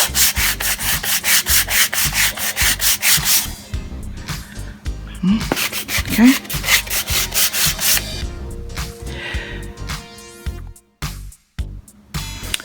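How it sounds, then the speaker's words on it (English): Painted wood blocks being sanded by hand produce rapid, rhythmic scratchy rubbing strokes, close and loud, that pause briefly and resume with scraping and a light clatter while one person speaks a single word. "the sanding itself can be tedious and it can be a process"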